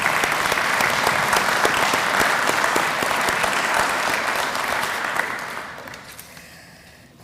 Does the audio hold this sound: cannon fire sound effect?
no